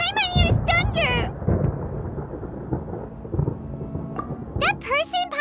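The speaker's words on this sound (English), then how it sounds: "Paimon hears thunder!" Rumbling thunder in the Genshin Impact video game, a long low roll spread across the scene, with a character's voice speaking at the start and end.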